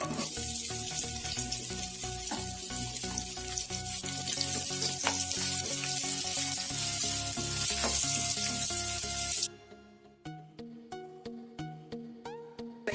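Onion frying in oil and ghee for a palak chicken gravy, a loud dense sizzle with spatula clinks that cuts out abruptly, leaving a quieter crackle with regular scraping stirs.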